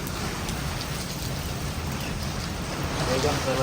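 Heavy rain pours steadily, a dense continuous hiss and patter on surfaces, close and unbroken for the whole stretch.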